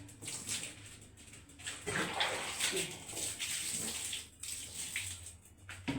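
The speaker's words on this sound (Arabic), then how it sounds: "اغسلها في الحمام وخلاص" Water splashes and runs steadily in a small bathroom as a piece of carpet is washed, a continuous wet rushing with uneven surges and brief dips.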